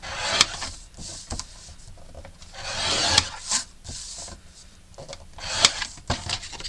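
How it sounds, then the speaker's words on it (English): Paper pockets for a handmade mini album are scored with a tool, producing close, dry scraping strokes of varying length, punctuated by sharp taps and clicks. "our pockets will get scored at 1/4 of an inch all the way around"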